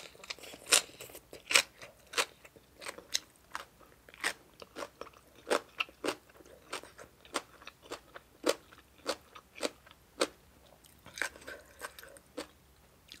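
Spicy som tam and chewy khanom chin rice noodles being eaten close up, with frequent crisp crunching and biting bites at an irregular pace and no talk.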